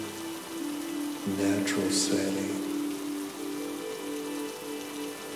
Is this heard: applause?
no